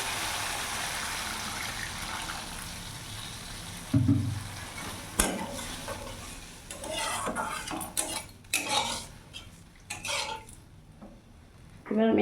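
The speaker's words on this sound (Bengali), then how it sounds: "এবার এরই মধ্যে আমি এখানে জল দিয়ে দেবো।" Water poured into sizzling egg curry masala in a pan gives a sudden hiss, then the utensil clatters and scrapes with bubbling sizzle in bursts, close by, with brief voice in the background.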